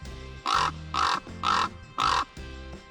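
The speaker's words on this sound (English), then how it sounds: "You're a big, beautiful bird, actually." A big bird, likely a crow, gives four loud, evenly spaced harsh caws close by, followed by a softer fifth call, outdoors beside a Jeep Cherokee XJ near an Arizona volcano.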